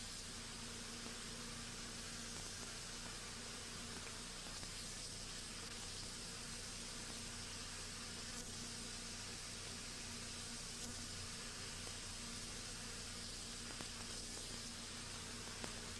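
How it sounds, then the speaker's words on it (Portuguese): Steady, low buzzing of stingless Plebeia bees in a hive fills the air without a break, faint and continuous, like many bees humming together at close range. "As novas abelhas se sentem comprimidas e buscam uma saída"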